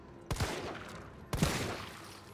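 Two sharp gunshots from the video game Resident Evil 3 ring out about a second apart, each a loud close crack trailing into a reverberant decay over a faint background hum.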